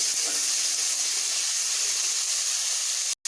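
Cut potatoes frying in oil in a pan give off a steady, loud hiss that runs unbroken, then stops abruptly at the end.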